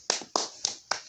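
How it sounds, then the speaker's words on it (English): Four sharp, evenly spaced claps in a quick rhythm, close and fairly quiet, each a crisp single smack with a brief decay. "Everybody start clapping!"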